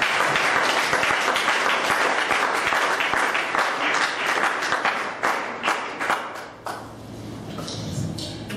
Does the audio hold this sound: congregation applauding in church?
yes